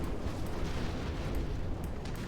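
A nuclear charge detonates in the real-time strategy game Command & Conquer: Generals, giving a loud, sustained, rumbling blast with dense low-end roar that fills the whole moment without any talk.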